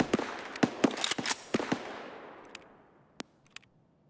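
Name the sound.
gunfire in Escape from Tarkov video game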